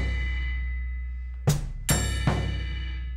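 Drum strokes on a floor tom, three or so deep hits close together in a triplet-of-four figure, loud and close over a lingering low ring, with no voices.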